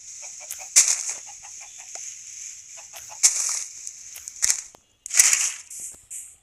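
Chickens cluck in the video game Minecraft, several short bursts with gaps between them over a steady game background hum, no talking.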